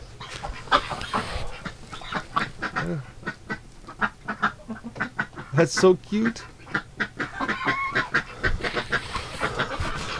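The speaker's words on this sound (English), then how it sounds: "A goose in with a duck." A goose and a duck call repeatedly with quacks and honks at close range, scattered irregularly, while a person talks over them.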